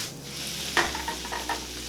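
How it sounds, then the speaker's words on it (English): Garlic, peppers and onions sautéing in a pan over medium heat, a soft steady sizzle broken by a few brief clanks and stirring taps. "They've been sauteing for about 3 or 4 minutes now, just on medium heat"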